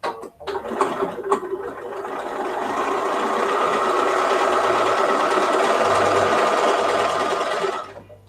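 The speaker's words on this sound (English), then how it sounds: "And I sew it this way." A sewing machine stitching quilt pieces runs with a steady, close mechanical whir that builds over the first couple of seconds and holds evenly before stopping, with a few clicks at the start and no talking.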